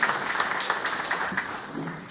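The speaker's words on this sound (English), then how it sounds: "So please give Nicolette and her team a round of applause." Audience applauding for Nicolette and her team at an awards ceremony, a dense, steady patter of many hands clapping for a couple of seconds.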